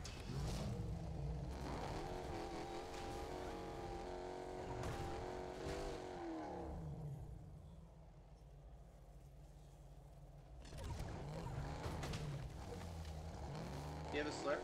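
A car drives in Fortnite with a steady engine drone that shifts pitch as it accelerates, moderately loud and nearby, while players talk over it.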